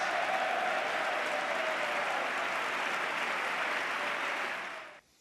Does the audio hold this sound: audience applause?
yes